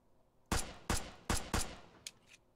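Vanilla, unmodded guns firing in the video game Brick Rigs: four sharp, loud shots about 0.4 seconds apart, followed by two fainter, shorter reports.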